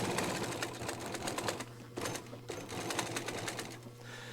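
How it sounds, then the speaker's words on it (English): A Juki industrial sewing machine stitches through eight thick layers, a loud rapid mechanical chatter in bursts with brief pauses and a steady motor hum underneath. "And this is what I love about industrial sewing machines."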